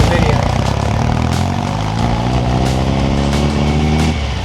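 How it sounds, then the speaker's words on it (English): A Rindt 356 restomod with a 1700 cc engine gives off a steady, loud exhaust drone with a rich low rumble, holding close and constant throughout. "exhaust sounds absolutely amazing as you'll hear in the video"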